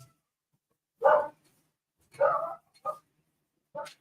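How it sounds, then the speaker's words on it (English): Dogs on a rural homestead barking outdoors, four separate woofs spaced irregularly over a few seconds, moderately near with quiet between them. "The dogs are barking at something."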